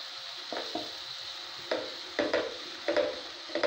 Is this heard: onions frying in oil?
yes